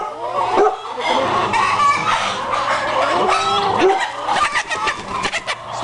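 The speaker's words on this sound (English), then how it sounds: "So we got a hard rock chicken here." Chicken clucking from a hard rock chicken in a farmyard setting, with repeated busy clucks and calls at moderate distance over steady background noise.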